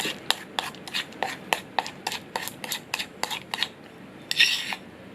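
A utensil stirs Korean tteokbokki with water and sauce in a pot, making a rapid, steady series of about a dozen light metallic clinks and scrapes, then a short rougher scrape, close and clear with no talking.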